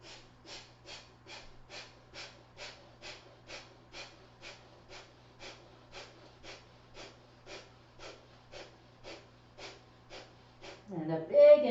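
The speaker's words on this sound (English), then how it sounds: "we're going to add our bellows breath" Rapid forceful bellows breathing during a yoga flow, about two dozen sharp rhythmic nasal exhales at a steady fast pace, close and clear, ending in a louder breath.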